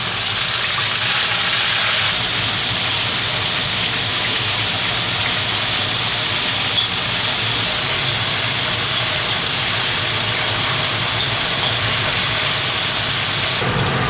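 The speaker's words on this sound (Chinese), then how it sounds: "接下来我们炸螃蟹" Crabs dipped in batter and deep-frying in hot oil, a loud, steady broadband sizzle and hiss that runs unbroken, close up, with no talking.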